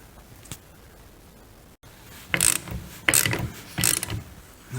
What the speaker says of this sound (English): tighten the nut while holding the strut itself so that it will not spin